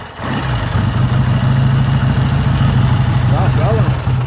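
A 1955 Triumph T110 650cc motorcycle engine idles steadily with a low, even throbbing rumble, close and loud throughout, with people talking over it.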